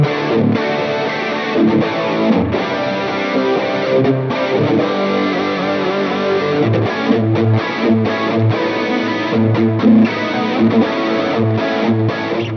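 A heavier rhythm electric guitar tone plays a dense, driving pattern of distorted chords, loud and continuous with choppy stops and accents.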